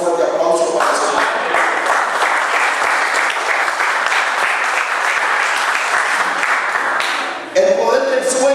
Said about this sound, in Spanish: damos un fuerte aplauso para el Señor